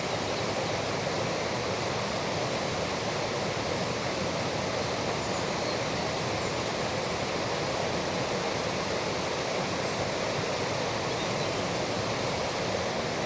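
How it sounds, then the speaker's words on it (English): A small natural waterfall in a spring forest pours as a steady, close, broadband rush of water that never varies, with no voices. "let's just stop and listen to this little natural waterfall here for a few moments"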